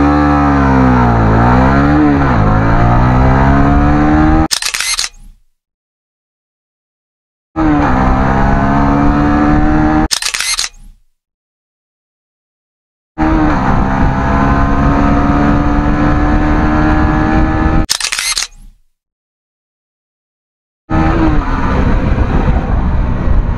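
Honda Winner X 150 motorcycle, a 150cc underbone, in an acceleration test: three loud runs, each a buzzing engine climbing through gears, broken by sharp cuts to silence, with a final burst at the end.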